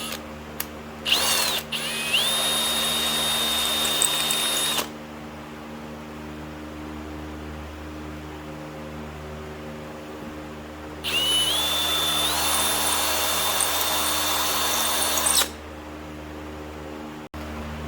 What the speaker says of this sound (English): I tuned it up with a sanding disc